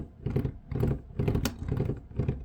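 Worn wheels with flat spots on a 1973 Chevrolet Crewcab Squarebody truck roll nearby with a rhythmic, loud thumping clatter, about five heavy pulses in quick succession with no talk over them.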